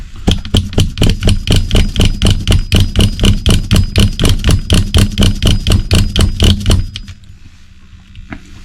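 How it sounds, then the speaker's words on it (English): The pull starter on an HPI WR8 nitro RC car engine is yanked in a long rapid series of loud rhythmic rasping pulls, then stops, leaving a quiet tail with a faint click. "we're going to pull on the pull starter couple just to get it all lubricated inside"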